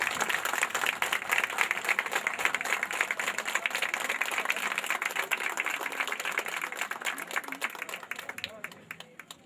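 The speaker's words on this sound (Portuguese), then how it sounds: "Então vamos dar uma salva de palmas para isso" An audience at a rural seed-sharing gathering in a quilombo community in Cabrobó, Brazil, claps together in a brisk, crackling round that holds steady, then thins out and fades toward the end.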